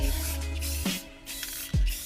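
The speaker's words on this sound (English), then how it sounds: "we've applied about 6 coats of this on clear enamel now. I'm going to apply one more good coat" Short bursts of spray hiss as clear enamel is applied to black Fender badges, with a brief pause and another hiss near the end.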